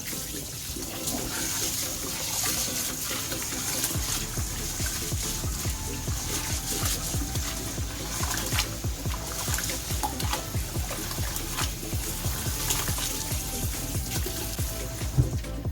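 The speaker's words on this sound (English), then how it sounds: "I'm going to be washing my rice. I normally wash it with hot water." Rice being washed in hot water for Nigerian jollof rice: continuous sloshing, trickling and splashing of water with rhythmic stirring or rubbing of grains, steady and close up, without talking.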